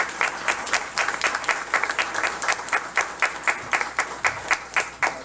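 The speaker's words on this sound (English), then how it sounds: "Let's give them a great big round of applause." Audience at a county school board meeting applauding, even sustained clapping with a slight rhythmic pulse, moderately close, with no speech over it.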